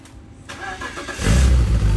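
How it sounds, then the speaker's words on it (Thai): A BMW E46 323i engine cranks and fires up, then settles into a deep, loud rumble from a throaty aftermarket exhaust, close by. "ท่อจะเป็นท่อแต่งของนอกนะครับ เสียงเพาะมาก"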